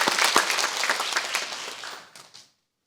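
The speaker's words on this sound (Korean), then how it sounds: "우리 박수로 축복합니다." A church congregation claps together for a pastor standing in the balcony during a Sunday service, a dense, lively burst of many hands that fades out near the end.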